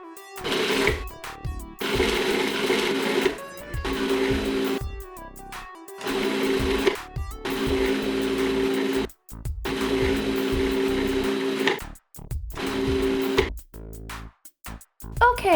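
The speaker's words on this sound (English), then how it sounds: "Now put your cap on and blend." A blender grinds freeze-dried strawberries and flour for macarons in several loud, close bursts, each a few seconds long, separated by brief pauses and ending in short pulses.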